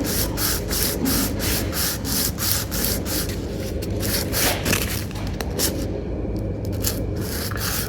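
Sandpaper of 220 grit rubs back and forth on a guitar's bone saddle during a thinline guitar refinish, a steady close-up rasping in quick regular strokes that continues throughout with no voices.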